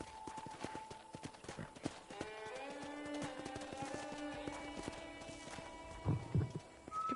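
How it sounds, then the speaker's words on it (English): Horse hooves clip-clop at a steady walking rhythm in Red Dead Redemption, close and distinct, with a soft whinny and snorts near the end over quiet ambient music. "I picked out a fine horse for you."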